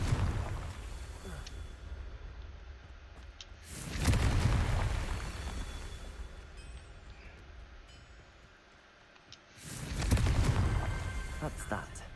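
Confringo fire spell cast in the Hogwarts Legacy video game, two heavy booming blasts with loud low rumble a few seconds apart over steady game ambience, with a voice speaking between them.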